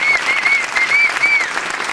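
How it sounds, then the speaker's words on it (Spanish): Brisk applause from an audience at a Spanish presentation event, close, loud clapping with some bright whistles cutting through. "Otro aplauso para ella."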